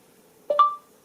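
A voice-command beep from a VoxiOne barcode reader device: one short electronic tone, a brief two-step chirp that rings clearly and then stops, heard alone with no talking.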